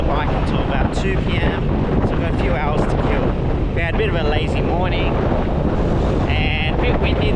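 Strong wind buffets the microphone in a constant low roar at the sea in Phuket, Thailand, with faint surf beneath and bits of indistinct voices.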